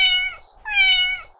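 A cat meows twice in a kitchen, two drawn-out harmonic meows with a short pause between, close and clear with no talking.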